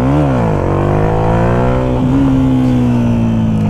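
A Yamaha MT-125 motorcycle engine revs loudly, its pitch rising and falling, then holds a steady, higher drone as the clutch is released for a wheelie.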